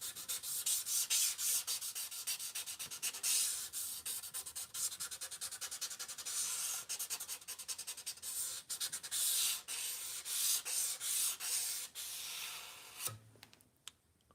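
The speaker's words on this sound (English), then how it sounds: "we're going to start off with some 600 grit, and we're just going to remove this rust." Abrasive 600 grit paper scrubbing rust off a kitchen knife blade (Wusthof, Hampton or Farberware), steady rapid rubbing strokes, close and fairly quiet, ending in a brief pause and handling clatter.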